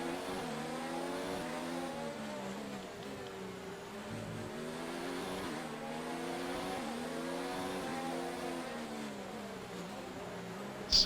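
Formula 1 car engine in the F1 2019 racing game on the final straight of the USA circuit, a steady high-pitched whine that climbs through repeated gear shifts at sustained speed.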